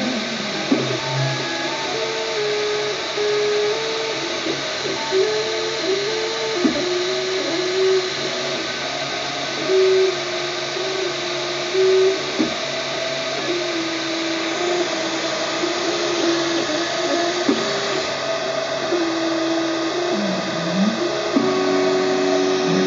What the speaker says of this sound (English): in each of these passes, we're printing one of the slices of the model that it made earlier.